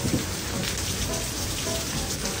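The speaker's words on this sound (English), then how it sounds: "Torrential rains again." Heavy rain pours down in a dense, constant roar, loud and close with no let-up and no voices.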